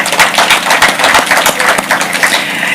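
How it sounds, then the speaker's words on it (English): Applause for volunteers at the launch of a motorsport program at Kasarani, a dense crowd clapping close and loud with a steady rhythm for a few seconds and no talking over it. "I'll ask for a round of applause for all the volunteers involved"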